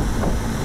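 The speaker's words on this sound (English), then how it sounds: "All this damn wind today." Gusty wind blows hard outdoors around a rooftop 60-ton AAON air-conditioning unit, a steady broadband roar close against the microphone with no talk.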